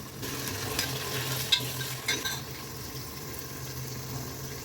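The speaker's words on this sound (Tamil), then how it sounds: "நெக்ஸ்ட்டு ஆனியன், ஆனியன் நல்லா ஃப்ரை ஆகணுங்க." Onions frying in a pan for chicken biryani, a steady close sizzle with occasional stirring scrapes, no voices.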